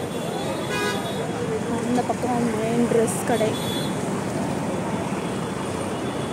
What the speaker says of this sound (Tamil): ஹெவி டிராஃபிக்காக வந்துகிட்டே இருக்குது